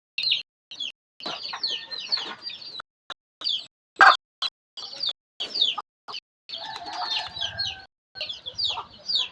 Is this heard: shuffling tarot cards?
no